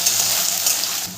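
Potatoes and flat beans fry in a pan with a continuous bright sizzle, stirred close up, steady and fairly loud throughout.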